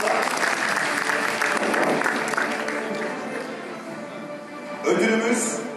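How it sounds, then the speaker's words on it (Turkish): Dense, sustained applause fills a hall at a 2018 Ottoman Turkish competition final as a presenter is invited to the stage, loud and continuous before easing slightly and swelling again near the end. "Alkışlarınızla."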